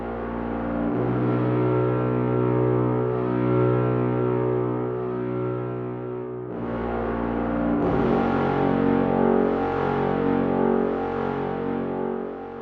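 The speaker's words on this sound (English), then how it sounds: "Brass on its own sounds a little bit like this." An orchestral brass section plays on its own, holding long, rich chords with low sustained notes beneath, swelling brighter and louder after about eight seconds, with no voices present.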